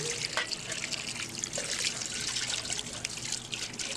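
Steady running water trickles and splashes continuously as a steel vessel is rinsed under a tap, close and fairly loud with no talking.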